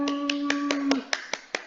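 A short run of about eight sharp, evenly spaced hand claps, crisp and close, rings out over a fading tone at the start of an online class session.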